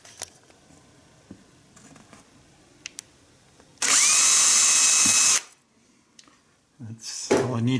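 A small power drill bores a tiny hole for a scroll saw blade in one loud, steady whine lasting over a second, close up, set among quieter workshop clatter and brief knocks.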